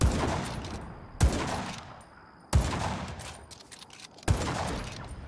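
Four heavy blasts of explosions and gunfire ring out from the Just Cause 3 video game, each a sudden loud boom with a long rumbling, crackling decay, spaced roughly a second or more apart.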